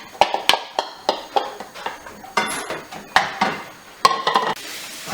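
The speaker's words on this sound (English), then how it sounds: "red pepper, onion and garlic a bit of a stir" Red pepper, onion and garlic frying in a pan for a healthy tortilla, stirred with a utensil: a run of sharp, rhythmic scrapes and clinks against the pan over a faint sizzle, no talk.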